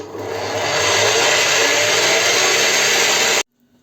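A loud, steady electric mixer whirring continuously for several seconds while beating cookie dough with sugar, then stopping abruptly into near silence.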